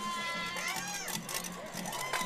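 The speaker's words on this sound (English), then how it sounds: "Still a huge crowd here. Nobody's going home." Crowd at a high school football game between the Eldorado Eagles and Christoval Cougars, with a fairly distant, steady murmur of many voices and scattered shouts rising near the end.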